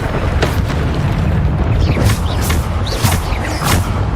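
Bombarda blasting spells from the Hogwarts Legacy video game, a steady run of loud booming bursts about every half-second over dense low rumble, with no talk.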